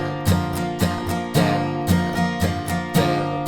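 Acoustic guitar strums the outro of a song, close and steady, with regular accented downstrokes and sustained chords throughout.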